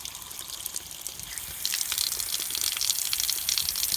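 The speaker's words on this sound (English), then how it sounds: "2 outside faucets to open up and drain" Water gushes steadily from an outdoor faucet as it drains, growing louder partway through as the flow increases, with a hissing, splashing rush and no voices.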